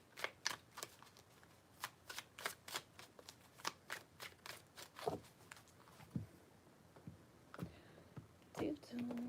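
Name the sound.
shuffling tarot cards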